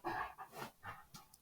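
A Labrador dog pants in the background with rapid, breathy bursts in an irregular rhythm, fairly faint and close, with no talking over it.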